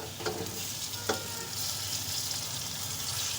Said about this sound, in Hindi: हमारा लहसुन अदरक का पेस्ट भी इसमें भून चुका है। अब इसके अंदर हम डालेंगे टमाटर